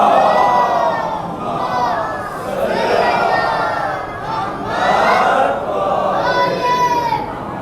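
A large gathering at a Muharram majlis chants salawat in unison, loud massed voices rising and falling in about four waves, close and full, with no single voice standing out.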